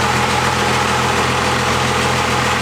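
A 12-valve Cummins diesel engine runs loud and steady just after its first start following modifications, a continuous low rumbling drone with no breaks or talk.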